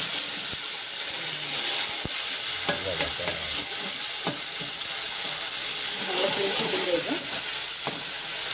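Steady loud sizzling of curry leaves dropped into hot oil, with a few sharp pops and spatters and faint clatter of stirring.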